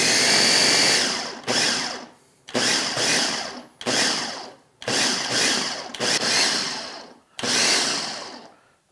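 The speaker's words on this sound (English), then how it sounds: "we're just going to pulse it till it becomes somewhat of a mush that we can form into patties" A food processor pulses a portobello mushroom mixture into a mush in six loud whirring bursts of about a second each, separated by short pauses, with no voices.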